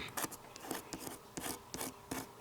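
Repeated scratchy rubbing strokes across the pressed grooves of a letterpress card, close and quiet, in a steady back-and-forth rhythm.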